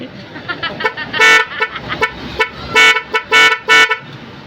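An Nhay 3 pro horn fitted to a Honda XRM 125 motorcycle plays a quick, loud close sequence of popping honks, short toots building to several longer blasts in a bouncy rhythm.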